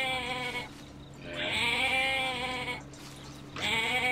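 A goat bleats in the Jurassic Park Operation Genesis video game, giving three loud, wavering calls close by, each roughly a second long, with short pauses between them and no talk.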